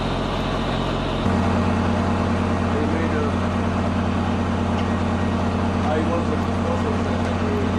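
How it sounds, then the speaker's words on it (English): A diesel generator's steady low drone hums continuously, shifting to a slightly different tone early on, with faint voices under it, during outdoor antenna construction. "That noise you hear in the background all the time is a diesel generator"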